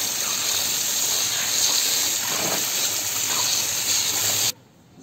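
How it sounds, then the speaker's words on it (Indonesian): Running tap water gushes over hands being rinsed clean after washing, a steady loud splashing stream that cuts off abruptly near the end. "Lalu kita bilas yang bersih."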